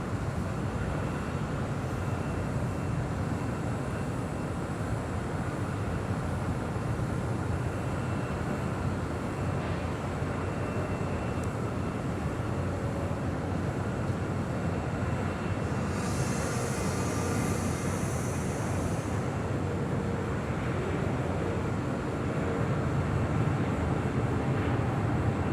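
A Philippine Airlines Boeing 777-300ER arriving at LAX on a flight from Manila, heard as a continuous, broad roar of jet engines that holds steady and fairly loud throughout, with no voices.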